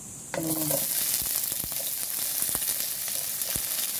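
Galunggong fish sizzles and crackles steadily as it fries in hot oil in a pan, a loud continuous hiss punctuated by sharp pops, with no talking.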